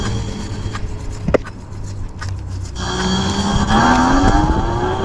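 A Motor Goat V3 60V electric bike, capable of over 45 mph, is ridden in a speed test on a flat road. A rising electric motor whine builds over wind and road noise, climbing steadily in pitch through the second half.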